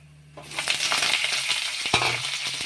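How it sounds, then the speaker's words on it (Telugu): Onion with green chilies and curry leaves drops into hot oil in a pan, starting a loud, steady sizzle with faint crackles that continues close and alone. "ఆనియన్ కొద్దిగా గోల్డెన్ బ్రౌన్ కలర్ వచ్చే వరకు ఫ్రై చేసుకోవాలి"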